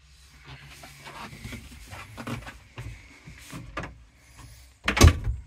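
In a 1990 Hymer B564 camper, an overhead cupboard door is handled with soft rustling and knocks, ending in one sharp, loud thud as the door swings and shuts.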